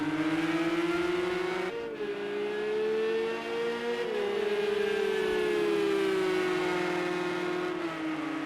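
Sim racing cars lap Silverstone's Luffield corner in an esports championship round, their engines holding loud, steady tones that rise and shift as several cars run close together, with no talk.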